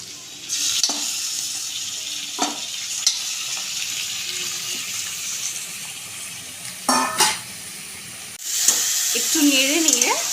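Meat hits a pan of frying chopped onion, ginger and garlic, sizzling steadily with scraping stirs and clatter, moderately loud and close, with a brief voice near the end.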